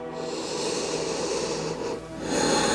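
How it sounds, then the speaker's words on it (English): Slow, steady breaths during a gentle seated yoga stretch for neck and upper back tension, with a long airy exhale, a short pause, then a fresh breath drawn in, close and breathy throughout. "Deep inhales and exhales."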